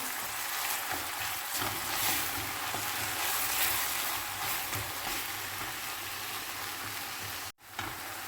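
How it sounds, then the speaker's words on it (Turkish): Red pepper flakes, mint and black pepper stirred into a hot pan, giving a steady close sizzle and frying hiss that runs unbroken, with one brief dropout near the end. "Baharatlarımızı da ilave ettik. Böyle 1-2 dakika karıştıralım."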